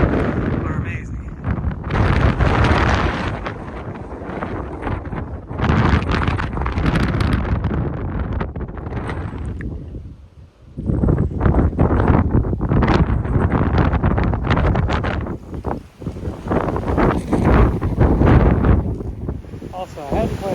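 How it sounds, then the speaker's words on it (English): Strong, gusting wind roars across the microphone at a high summit with an arch nearby, buffeting loudly and nearly continuously with a brief lull midway. "It's very windy"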